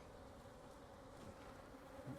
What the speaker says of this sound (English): See the bees getting a little bit louder.